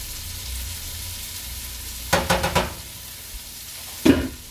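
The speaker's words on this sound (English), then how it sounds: "I'm going to give that a stir" Garlic sizzling in a skillet while being stirred, a soft steady sizzle underneath with a quick cluster of four scraping clicks from the utensil and another single knock near the end.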